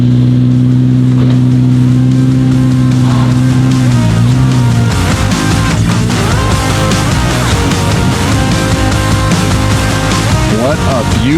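A car engine revs outdoors, its tone rising and falling in uneven sweeps, loud and close, with some voices mixed in.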